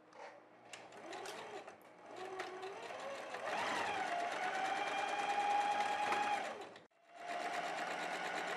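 Close by, a sewing machine runs a seam on a girl's dress sewn from a jacket, humming steadily for several seconds, stopping briefly, then starting up again.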